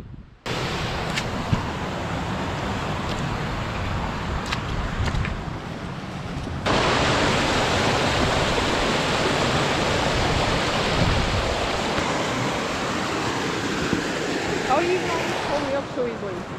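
Nether Beck's waterfalls and river in the Lake District pour in a constant broadband rush, close and loud, with the roar thickening noticeably partway through as the falls come nearer.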